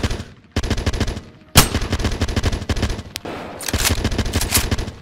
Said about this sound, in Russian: Там перестрелка вышла